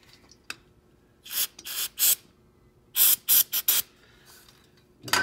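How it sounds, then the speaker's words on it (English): Carburetor cleaner sprayed from an aerosol can onto a rag at a lathe, heard as several short hissing bursts in two groups, close and fairly loud against a quiet workshop background. "shoot a little carb cleaner on it"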